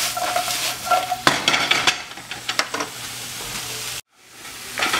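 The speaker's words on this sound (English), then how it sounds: "Everything's starting to sizzle now. You can hear it rolling." Onions and okra fry in a nonstick pan, a steady sizzle broken by loud scraping stirs of a utensil against the pan, with a brief sharp clatter and a short dropout near the end.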